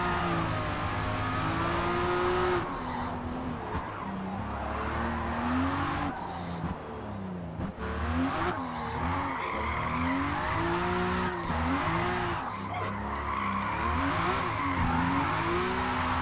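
A car drifting sideways around an oval in the Forza Motorsport video game, sustained engine revving with rising and falling pitch and long tire squeals, loud and continuous without talk.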